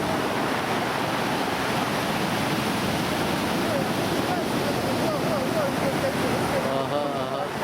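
Black Sea surf rolls onto Gagra beach in Abkhazia as a steady, loud wash of breaking waves that fills the whole stretch, with excited voices faintly caught beneath the roar.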